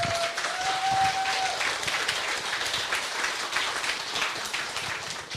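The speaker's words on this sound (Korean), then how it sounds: "우리 멋진 강의를 해주신 한윤규 대표에게 다시 한번 박수 보내주시기 바랍니다." Audience applause after a lecture at a public talk in a gallery hall, a dense steady roar of many hands clapping that holds evenly throughout, with a brief tonal whistle early on.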